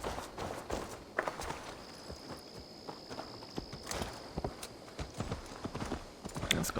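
Horse hooves clip-clop in a steady walking rhythm in Assassin's Creed Valhalla, close by, among footsteps and faint game ambience, with a thin whistling tone running through the middle.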